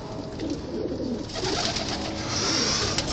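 Pigeons coo on a city rooftop where birds are kept and flown, a low steady murmur of calls over constant outdoor background noise, with no talking.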